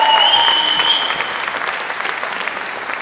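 Audience at a jazz concert in Oslo applauding, a full burst of clapping with a few high tones at the start, then thinning and fading to scattered claps.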